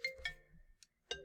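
A phone ringtone from an incoming spam call plays a few bright chiming notes in a quick melodic pattern, faint and thin, with short pauses between the chimes.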